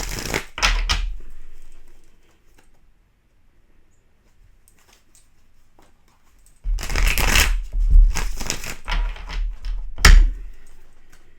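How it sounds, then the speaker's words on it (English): Tarot cards are shuffled by hand in two bursts of crisp riffling and flicking, a short flurry followed by a pause and then a longer, louder run ending in a sharp tap. "I got 2 more shuffles here"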